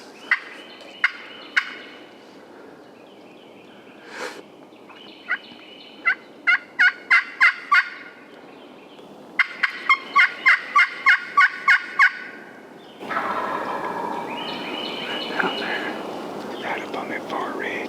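A few scattered clicks, then a wild turkey gobbler gobbles in two rhythmic bursts of loud notes, with soft whispering nearby and rustling noise at the end.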